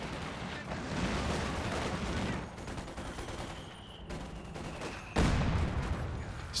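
Twin mortars firing in a Company of Heroes 2 battle, set within a dense bed of continuous gunfire and distant explosions, with one loud heavy thump near the end rising above the steady battle noise.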